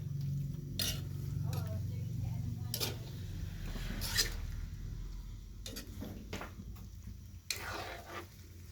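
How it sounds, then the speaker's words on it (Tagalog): Squid is stirred in a pan with a utensil, giving scattered scraping clacks against the metal over a faint low sizzle and background hum, fairly quiet and irregular. "Yan, haluin lang natin ang haluin guys."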